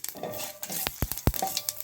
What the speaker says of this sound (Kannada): ಇವಾಗ ಒಂದು ಒಗ್ಗರಣೆ ಮೆಣಸನ್ನು ಹಾಕ್ತಾಯಿದ್ದೀನಿ